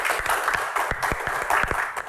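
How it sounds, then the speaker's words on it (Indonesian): A crowd applauds steadily, dense clapping with a few sharper individual claps standing out, fairly loud and continuous throughout. "Tepuk tangan sekali lagi Pak Bolot."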